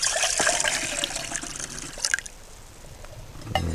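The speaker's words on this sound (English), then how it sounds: "Pour our water" Two cups of water pour into a titanium cook pot on a Clikstand camping stove setup. A splashing, gurgling stream runs for a couple of seconds, then dwindles to faint trickles and drips.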